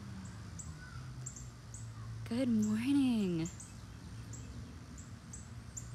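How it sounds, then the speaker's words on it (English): Birds call outdoors on a pleasant, breezy morning, with a loud crow-like caw rising clearly for about a second amid faint chirps, while a woman greets listeners in a storytime setting. "Do you hear the birds in the background?"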